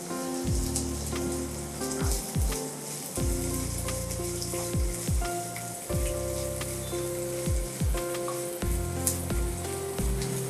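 Finely chopped onion sizzling in a pan for an instant-noodle salad, a dense continuous crackle with repeated low knocks and scrapes of stirring throughout, close and steady with no voices.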